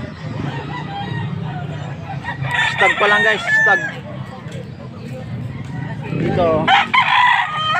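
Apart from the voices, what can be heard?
stag gamecock crowing and clucking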